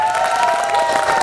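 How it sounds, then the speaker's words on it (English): A mall audience in Pune, gathered for a Shahid Kapoor and Kiara Advani event, breaks into a brief burst of applause and cheering, with a steady tonal hum beneath the crowd. "a big round of applause for our teams first of all"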